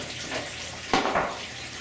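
Water poured into a hydroponic fodder system's reservoir, holding pure water without nutrients, gives a steady close splashing trickle with a brief louder splash partway through and no speech.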